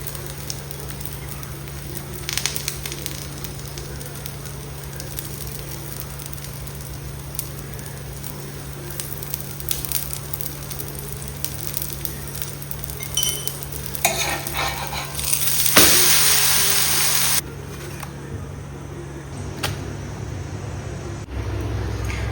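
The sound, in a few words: dosa frying in a pan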